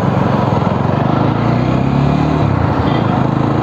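Jawa 42 BS6 motorcycle on a short ride, its engine droning steadily and close with a continuous low throb, mixed with wind and road noise, no voices.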